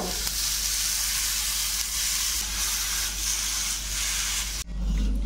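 Bottle gourd leaves searing in a hot pan for a Bengali prawn paturi, a loud, steady frying hiss and sizzle up close that cuts off abruptly near the end.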